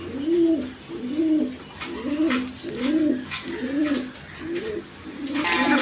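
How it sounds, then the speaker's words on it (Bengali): A black Arabian Pokka pigeon coos close up in a steady series of about seven soft, rolling calls, each repeated at an even pace with light background noise. "দেখেন অরিজিনাল অ্যারাবিয়ান পোকা কবুতর"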